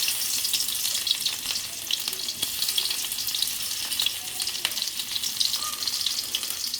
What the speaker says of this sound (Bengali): এখন আবার ভেন্ডি ভাজি করার জন্য কড়াইতে তেল দেওয়া হয়েছে